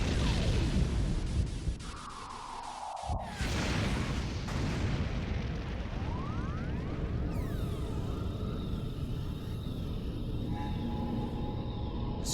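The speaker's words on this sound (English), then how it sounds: "Explosion." A booming explosion in the video game .hack//G.U. Vol. 2, a loud burst with a sharp low-end crack near the start, followed by a rumbling tail and rising synthetic effects, without any talk.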